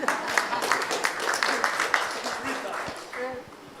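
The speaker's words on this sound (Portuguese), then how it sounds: "A big round of applause." An audience at a Brazilian-German cooperation event applauds for a government minister, with moderate clapping that fades out toward the end while a voice speaks over it.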